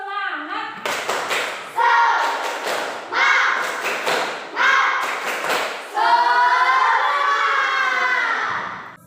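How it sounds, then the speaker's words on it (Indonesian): A school class doing the rhythmic 'tepuk semangat' clapping routine, with bursts of patterned group claps between loud chanting children's voices, close and energetic, ending in a longer drawn-out shout. "Biar lebih semangat lagi, kita tepuk semangat ya."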